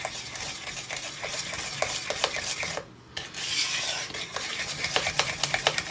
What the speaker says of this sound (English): I'll just mix that sugar into that. Mix it fairly good there.